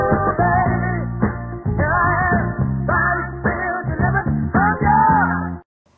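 A song plays back at reduced audio resolution, so it sounds coarse and band-limited, with dull, muffled highs. The music is loud and continuous, then cuts off abruptly near the end, with no talking.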